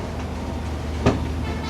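Jaffna to Colombo Intercity Express train running, a steady low rumble with a brief louder clank near the end, fairly close and continuous with no talk.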